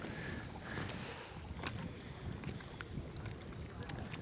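Wind blows steadily across a lakeside carp-fishing spot, a broad rushing noise with gusts and scattered small knocks and rattles close to the microphone, with no talking.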